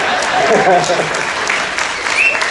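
Audience applause on a Disney Magic cruise ship for a coin magic trick, a short burst of clapping with a voice talking over it.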